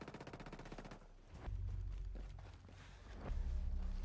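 Automatic fire from an M4A1 rifle fitted with a muzzle brake in the video game Ghost Recon Breakpoint: a rapid rattling burst, then heavier booming shots and rumbling impacts, loud and close.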